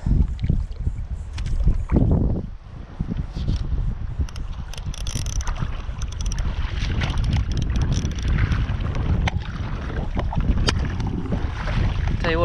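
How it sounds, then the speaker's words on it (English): Strong wind buffets a small inshore fishing boat on the water, a loud continuous rushing roar with gusts and microphone buffeting throughout, with faint creaks and knocks from the hull and gear. "that wind sure has gotten bad all of a sudden"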